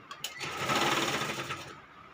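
A sewing machine runs steadily for about two seconds, stitching crosswise across a thick quilt made from layered old sarees, close by with no talk.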